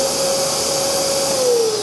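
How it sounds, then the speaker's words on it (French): A Kärcher multi-purpose wet and dry vacuum cleaner runs steadily, a close, constant whooshing roar with a thin motor whine that dips slightly in pitch near the end. "le Karcher pour le comparer par exemple, tu vois, ça c'est un aspirateur multi-usage qui aspire aussi la flotte"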